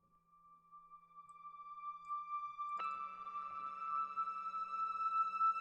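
Frozen textures patch from Spitfire's Contemporary Drama Toolkit, a thin sustained icy tone that swells with a sudden brighter layer entering partway through, quiet and gradually building, with no voices.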